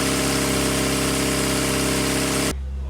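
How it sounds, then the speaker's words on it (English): A Mini car engine runs on a test rig with a loud, steady droning hum, then abruptly drops to a quieter low rumble near the end. "so the engine's actually working there"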